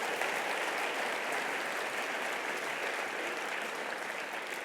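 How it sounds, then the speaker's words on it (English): A crowd claps continuously at an arts advocacy lecture, a dense, even wash of applause that holds steady throughout and fades slightly at the end. "let's give a round of applause to all the artists"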